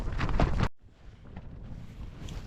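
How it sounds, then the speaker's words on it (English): Wind blowing across an open fell top at a wild camp on Dodd Fell, a steady breathy rush with gusty rumble buffeting close to the microphone, after a brief louder burst at the start. "wind picking up a bit now"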